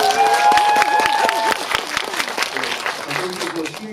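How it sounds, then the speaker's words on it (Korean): A cinema crowd at a film talk event at CGV Wangsimni claps in a dense patter while a voice talks over it in the foreground, the applause steady and loud throughout. "박수 한번 부탁드립니다."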